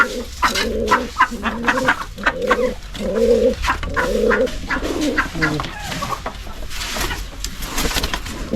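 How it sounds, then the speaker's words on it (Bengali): Domestic pigeons cooing nearby inside an old mud house, in repeated low, throaty phrases, one after another, with faint room noise between calls. "এই যে দেখুন ভেতরে পায়রা বসে আছে"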